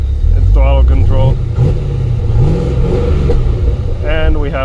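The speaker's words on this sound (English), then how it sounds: "And then we just have the normal idle without the fake cams" A 5th-gen Chevrolet Camaro V8 with an aftermarket ECU idles loudly and steadily with a deep rumble, while someone talks over it.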